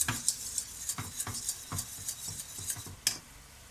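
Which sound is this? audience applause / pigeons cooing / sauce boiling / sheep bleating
sauce boiling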